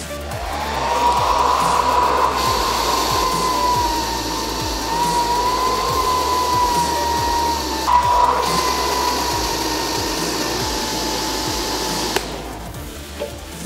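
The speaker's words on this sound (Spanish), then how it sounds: "le vamos aplicando aire con el secador en frío a la botella pequeña" A hair dryer on a cold setting blows air into a small bottle during a homemade cigarette smoking-machine experiment, giving a loud, steady whirring whine with a brief change in pitch partway before it cuts off.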